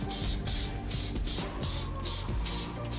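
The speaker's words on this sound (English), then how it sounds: "I'm gonna take my spray adhesive, I'm gonna spray down the wood" Short hissing bursts of spray adhesive sprayed onto wood repeat in a quick, regular rhythm over a low background hum.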